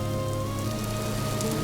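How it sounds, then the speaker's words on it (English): Steady rain falls in the video game Vintage Story, an even, dense hiss of drops on surfaces that stays constant throughout with no other sounds. "And we've returned to the rain."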